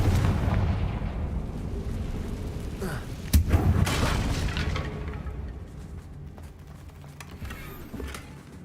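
A Confringo blasting spell goes off in Hogwarts Legacy, a sharp booming burst around the middle over a dense rumbling battle din, then fading into lower, scattered rumble.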